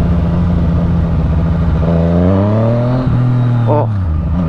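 A Yamaha FZ09 motorcycle engine while riding, a loud steady drone close by that rises in pitch as it revs, drops briefly on a shift, then climbs again.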